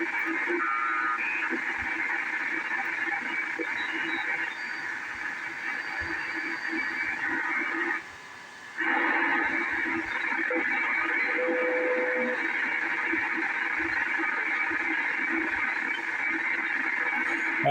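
Steady hiss and hum of a DX394 shortwave receiver in upper sideband mode with an MLA 30+ loop antenna, static filling the band with faint warbling tones and a brief dip in the noise partway through.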